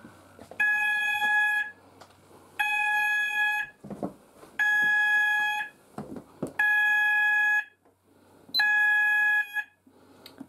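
An Apollo XPander fire alarm landing sounder repeats a loud electronic beeping tone in five even bursts separated by short pauses, with faint background noise in the gaps and no talk.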